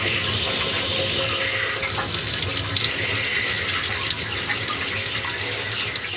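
Pressurized water rushes steadily out of a basement sump pump discharge pipe, a loud continuous close-up gush with no pauses or talk.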